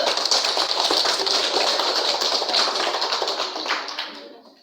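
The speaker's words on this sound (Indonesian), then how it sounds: "Tepuk tangan dulu" Classroom of students applauding together in a dense, steady burst of many claps that carries on for several seconds before tapering off near the end.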